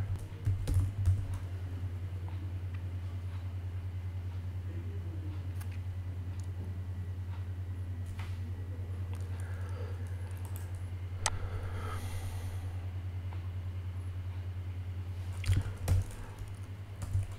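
Steady, close keyboard typing into a document file on a computer, continuous rapid key clicks over a low constant electrical hum, with no talking.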